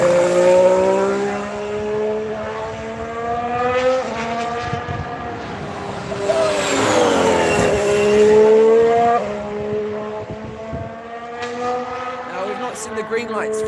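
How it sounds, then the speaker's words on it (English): Haas Formula 1 race car screaming past with a high, rising and falling engine whine, several shifts and a Doppler sweep as it passes, with voices talking over it. "Here's the Haas, listen."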